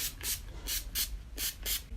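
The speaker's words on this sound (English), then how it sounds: "spritz my face again with the NYX Matte Finish spray" NYX Matte Finish setting spray misted onto a face in five quick, evenly spaced bursts of fine hissing spray, close and fairly quiet, with no talking.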